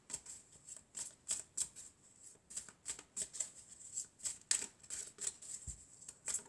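Elf oracle cards are shuffled by hand in quiet, rhythmic bursts of soft riffling and flicking, repeated many times close to the listener.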